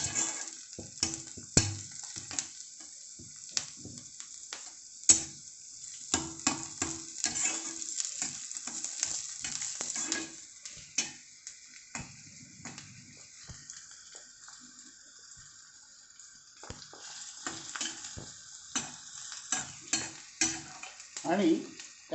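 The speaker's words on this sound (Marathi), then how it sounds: "हे कांदे आता आपण छान परतून घेणार आहोत." Sliced onions sizzle softly in a pan for a Maharashtrian zunka, with repeated scraping and clinking stirs of a spoon at close range, quieter in the middle before the stirring picks up again.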